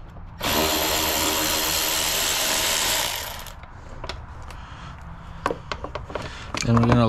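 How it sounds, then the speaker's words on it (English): A power drill or impact driver whirs loudly for about three seconds while loosening 8 mm bolts on a Jeep Cherokee air filter housing, followed by softer clicks and ratcheting taps and a brief low thump near the end. "And we're gonna loosen them all off."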